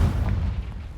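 Confringo explosive spell blast from Hogwarts Legacy, a single heavy boom with a deep rumbling tail fading over about a second, loud and without voices.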